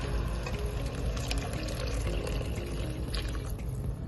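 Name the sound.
hot water poured into a pot of rice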